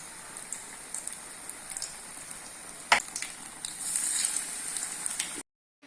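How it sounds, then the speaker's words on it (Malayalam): Batter-dipped banana slices crackle and spit in hot oil, a close, continuous frying sizzle with sharp pops, swelling louder toward the end before stopping. "ഇനി ചൂടായ എണ്ണയിലേക്ക് അരിഞ്ഞു വെച്ച ഓരോ പഴം നമ്മൾ ഈ ബാറ്ററിൽ മുക്കിയതിന് ശേഷം ഓരോന്ന് ഫ്രൈ ചെയ്തെടുക്കുക."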